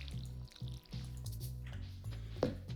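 Watering crops in Stardew Valley: a game's soft watery splashes and drips repeat in a steady rhythm, with a low musical drone beneath them and one brighter drip near the end.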